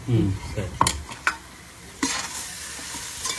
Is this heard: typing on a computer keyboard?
no